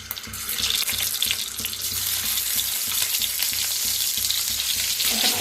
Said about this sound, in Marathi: आता फ्राय करून घ्यायचे अंडी,